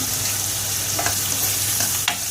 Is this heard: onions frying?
yes